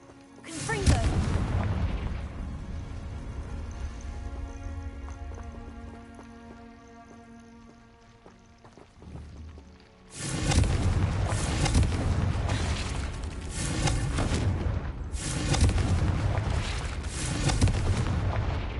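Fire spell explosions from the Hogwarts Legacy video game, a long ringing blast tail fading over several seconds, then a second loud burst of crackling booms and impacts that keeps going to the end.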